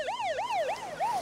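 An ambulance siren wails in Beirut after the port explosion, a fast repeating rising-and-falling electronic tone, loud and steady, with no voices.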